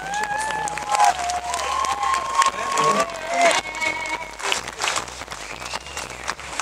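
A concert crowd in Asbestos claps and cheers steadily while voices shout over the applause, with a dense, continuous roar heard from within the audience.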